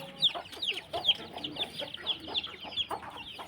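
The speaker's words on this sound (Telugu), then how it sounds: "ఇంకా కోళ్ళు అయితే గూళ్ళల్లోకి వెళ్ళిపోతాయి కదా, అందుకనేసి అయితే మేత వేస్తున్నాను." Village chickens cluck in a rapid, busy series of short, bright calls while being fed grain in the evening before going into their coops. The calls are close and moderately loud, with soft rustling and scratching underneath.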